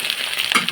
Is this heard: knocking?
no